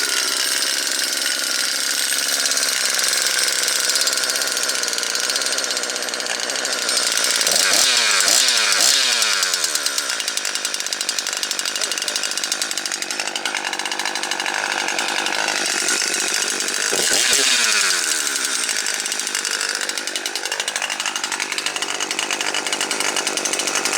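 Two-stroke chainsaw running on full choke after sitting a while, a saw two to three years old, idling loudly and continuously alone with two sharp revving bursts that rise and fall partway through.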